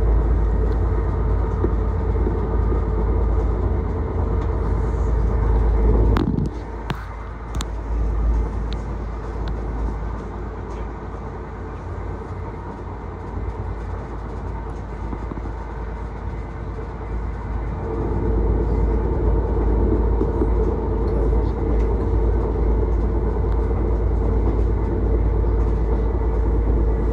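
A train runs along the Braintree branch line toward Witham with a loud, steady low rumble and rail hum, heard from inside the carriage. Brief clunks come partway through, and the rumble dips, then swells again.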